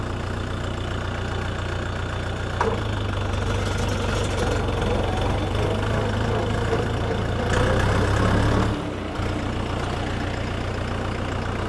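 A tractor engine with a two-disc clutch runs steadily at idle on its first start after winter, a loud continuous low rumble with a brief change in pitch and a short dip near the end.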